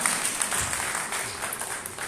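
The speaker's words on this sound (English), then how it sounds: "Put your hands together for yourselves." Conference audience applause at a health show event, a brief muffled burst of clapping heard at moderate distance with a diffuse, roomy tone.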